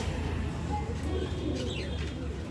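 Old line pigeons coo softly in low, rolling calls beneath steady background noise, with faint chirps and a person talking in the distance.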